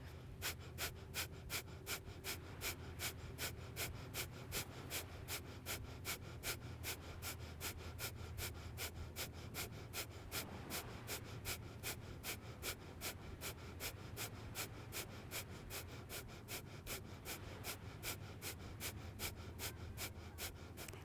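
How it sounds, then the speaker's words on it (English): Kundalini yoga breath of fire: fast, even, forceful nasal exhales pumping in a steady rhythm, close and quiet, with no talking. "Begin the breath of fire through your nose."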